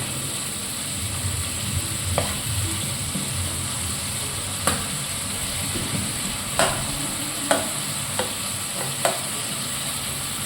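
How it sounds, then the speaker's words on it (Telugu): Onions frying in a pan for chicken curry give a steady close sizzle with occasional stirring scrapes and pops, with no talking. "చూడండి, ఇప్పుడు ఇది ఉల్లిగడ్డ ఇది బాగా వేగింది,"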